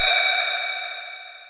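A wah vocal sample from a techno track: a single bright, sustained vocal tone that starts with a brief low hit and slowly fades over a second and a half, with no other sounds or talk.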